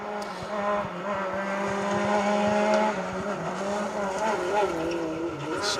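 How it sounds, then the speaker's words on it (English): Peugeot rally car on a stage of the 2025 RAC Rally, its engine note rising and falling through gear changes as it passes, loud and continuous with crowd or commentary voices faintly underneath. "This sounds like the Peugeot."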